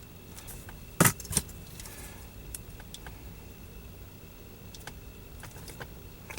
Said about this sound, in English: I'm going to cut it where the third coil would have begun.